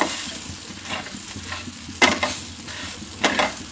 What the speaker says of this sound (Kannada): ಇದೆಲ್ಲ ಸ್ವಲ್ಪ ಹಸಿ ವಾಸನೆ ಹೋಗೋವರೆಗೂ ಹುರ್ಕೋಬೇಕು.